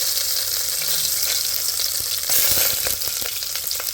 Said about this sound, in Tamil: சீரகம் பொரிஞ்சிட்டு இந்த நேரத்தில் கருவேப்பிலை வெங்காயம் போடுவோம்.